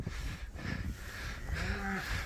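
Cattle low at a farm feeder after a storm, one drawn-out moo rising near the end over steady wind-like noise outdoors.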